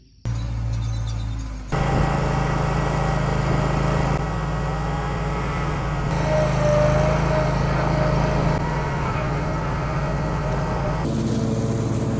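A lawn mower runs steadily and loudly while cutting weeds on a food plot on Southern Illinois land, its engine drone holding near and constant after a brief quieter start.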